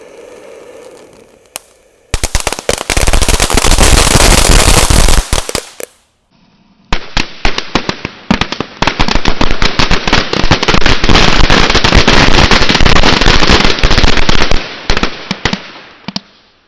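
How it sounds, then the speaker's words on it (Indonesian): Firecrackers including small crackers, lotus and sunflower fountains and a disco type set off inside a hole in the ground, bursting in long dense rapid crackling volleys, very loud and close, with a short pause between two extended barrages. "eksperimen menyalakan mercon di lubang tanah"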